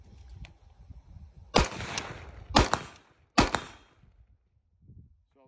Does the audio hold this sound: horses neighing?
no